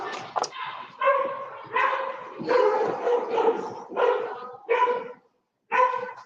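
A dog barks repeatedly in loud, close bursts with short gaps, some barks sliding into yips and whines.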